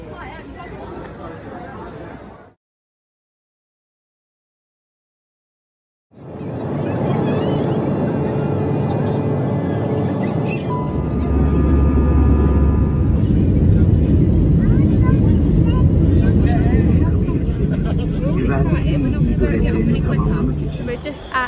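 Busy terminal ambience at Antalya Airport, with a steady wash of crowd babble and a low aircraft or engine rumble building up after a brief dropout, people talking throughout.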